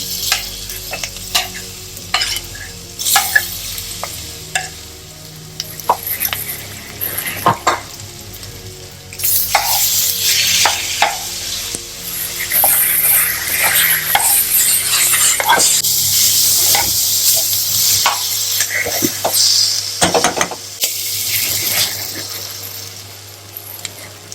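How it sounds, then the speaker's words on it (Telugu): Boiled elephant foot yam pieces dropped into a pan and stirred for a Telugu kanda kura, steady sizzling frying with repeated scraping and clinks of a spoon against the pan, close and loud. "ఇప్పుడు ఈ ఉడకబెట్టిన కన్న ముక్కలు దీంట్లో వేసుకుందాం"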